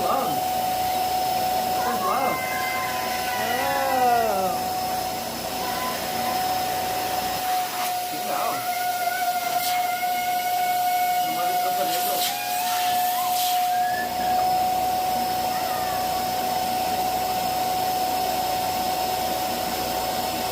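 Helium and an air pump inflate a large Valentine's Day balloon with a steady hissing rush, a pitched whine changing as the balloon fills, and a voice speaking briefly over it.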